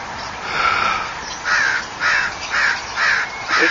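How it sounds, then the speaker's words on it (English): A large blackbird, likely a crow, caws from a tree near Juniper and Hawaii Street by Saint Alphonsus hospital, one longer call followed by five evenly spaced loud caws, close and clear with no talk. "Big blackbird there."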